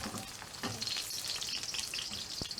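Deep fried tempeh is stir fried in a pan, giving a constant close sizzle with scraping stirs and one sharp knock of the utensil.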